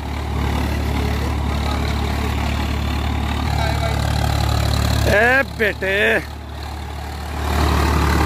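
Swaraj 855 tractor engine running in a field, a steady low diesel drone with a brief rise in pitch midway, close and loud, while someone speaks briefly over it.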